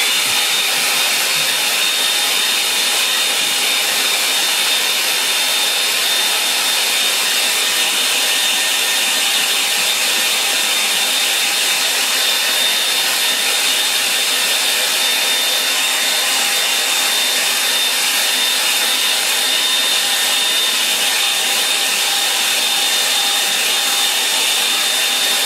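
A hair dryer blows steadily and loudly on a watercolour snow scene painting, a constant close whooshing roar with no breaks for the whole stretch and no talk.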